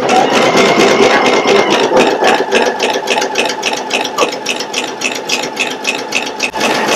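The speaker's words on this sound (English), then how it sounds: "it's stitching that applique placement line" A Pfaff Creative Icon 2 sewing machine stitches an applique placement line, its needle hammering in a fast, steady mechanical rhythm that runs loud and continuous throughout, with no talking.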